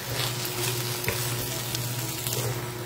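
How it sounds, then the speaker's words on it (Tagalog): Bitter gourd stir-frying with oyster sauce in a pan gives a steady, close sizzle with soft scraping and stirring, continuous throughout with no talk. "Haluin natin para mag-combine ang lasa."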